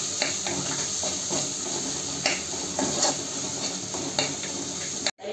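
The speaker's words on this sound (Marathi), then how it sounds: "आता थोडीशी ही आलसण्याची पेस्ट आहे ना, ती कांद्यामध्ये थोडीशी परतवून घेणे" Onion being sautéed with ginger-garlic paste in a pan, a continuous close sizzle with repeated scraping stirs of a spatula at regular intervals.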